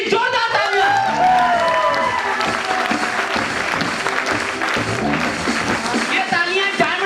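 A seminar audience in Delhi applauds as a guest is called to the stage, dense steady clapping and some cheers filling the hall throughout, with a voice speaking over it.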